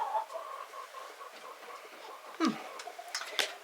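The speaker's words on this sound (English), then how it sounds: "these crazy chickens, they peck at the styrofoam too" Chickens cluck and murmur close by, with a few sharper squawks toward the end and no talking.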